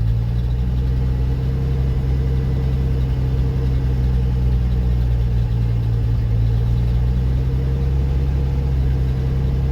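An already-warm 1979 Ford F-350 Custom truck engine idling just after starting, a steady, loud, low rumbling drone with an even hum and no change in pace, close by, with no talking.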